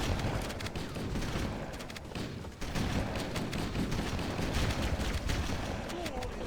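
Vehicles in the video game Steel Commander fire in a loud, sustained barrage of crackling gunfire and thudding impacts, continuous throughout with a brief dip midway, while a voice talks over it.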